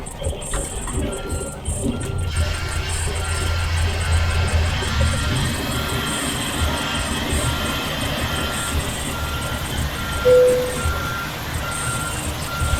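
A heavy truck in a trucking simulator game, hauling household appliances between Cedar City and Page. A continuous low engine drone runs underneath, with scattered beeping and faint background noises over nearly thirteen seconds.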